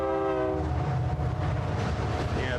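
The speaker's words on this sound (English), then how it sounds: "that sounds like a freight train." A deep, continuous roar like a freight train rolls on without a break during a storm chase near Childress, Texas, with a brief tonal horn-like note at the start.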